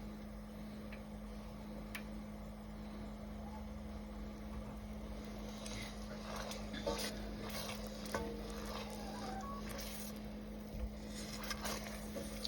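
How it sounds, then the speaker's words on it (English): Sugar syrup for toffee apples comes to a rolling boil in a pan, giving a steady bubbling sizzle with occasional small pops and crackles over a constant low hum, continuous and close throughout. "and bring it to the boil"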